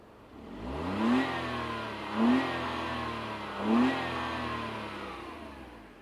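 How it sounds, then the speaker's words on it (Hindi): A 2024 Maruti Swift engine revs hard three times in a row, each roar rising and falling back to a steady idle rumble, close by with no talking. "पूरा रेफ करके 86 डीबी तक जा रहा है"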